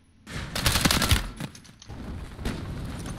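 Gunfire in the Call of Duty Modern Warfare 3 shooter game: rapid bursts of shots crackle loudly for a few seconds, trailing off into more scattered fire.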